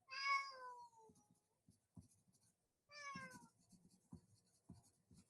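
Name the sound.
cat meowing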